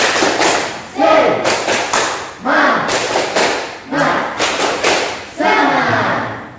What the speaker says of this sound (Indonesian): kita tepuk semangat supaya meningkatkan rasa semangat kita hari ini